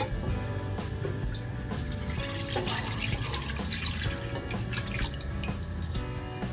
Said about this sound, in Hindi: अब ये पानी को फेंक देंगे